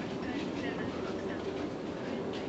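A South Western Railway class 707 electric train heard from onboard, with a steady rumbling roar of wheels and motors throughout and faint talk in the carriage.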